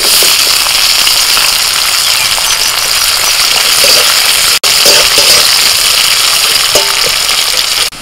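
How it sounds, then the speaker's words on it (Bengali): Chopped onion fries in hot mustard oil with bay leaf, dried chilli and whole spices in a wok, producing a loud, dense, continuous sizzle close by, broken by one brief dropout midway and light stirring scrapes. "ফোড়ন হয়ে গেছে, দিচ্ছি পেঁয়াজ কুচি।"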